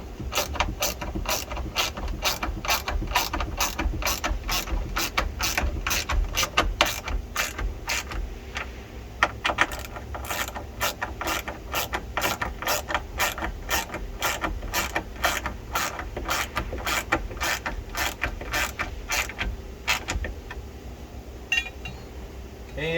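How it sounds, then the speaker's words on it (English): A hand ratchet tightening bolts on a Jeep JLU subwoofer box mounting bracket, a long steady run of rapid, close clicking strokes with brief pauses as the handle swings back. "And then ratchet these down."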